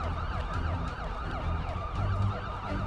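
A wailing police siren in a video game sweeps up and down repeatedly at moderate distance, with a low rumble of traffic underneath.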